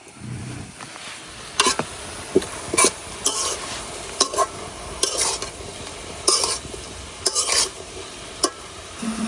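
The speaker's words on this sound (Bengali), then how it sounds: "সয়াবিন তেল এখন খুব ভালো করে মাখাই নিলাম" Pangas fish head mixed by hand with chili powder, turmeric, salt and soybean oil in a kadai: close, irregular wet squelching and scraping strokes in short bursts, with no talking.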